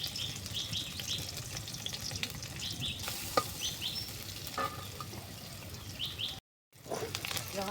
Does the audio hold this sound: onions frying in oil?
yes